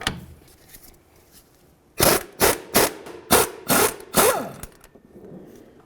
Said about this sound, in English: Now let's just use an 18mm socket to remove our nut.